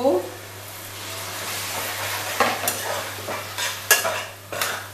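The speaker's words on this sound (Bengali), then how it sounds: "এখানে আমি একটু জল অ্যাড করব" Water goes into a pan of Kashmiri chili powder for a chicken dish, bringing a soft sizzle, then a spoon stirs and scrapes with a few distinct clinks against the metal.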